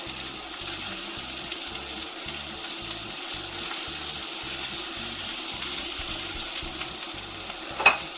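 Italian meatballs sizzle steadily in a frying pan as they are turned, a constant close hiss and crackle with a single sharp clink near the end.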